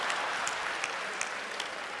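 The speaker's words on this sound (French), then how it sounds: "Applaudissez pour lui" Steady crowd applause at an event in Cameroon, a dense even patter of many hands with a few sharper claps standing out, moderately loud and unbroken for the whole stretch.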